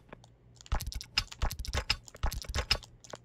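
Fast typing on a computer keyboard during a building game, a close run of crisp clicking keystrokes in uneven bursts.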